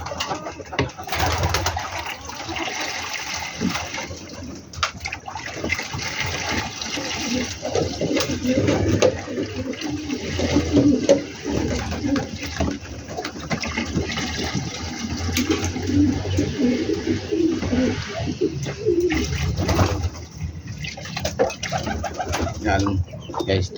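Pet pigeons or doves coo near a water dish, their soft calls mixing with continuous splashing, running water close by, with a person talking intermittently in the background.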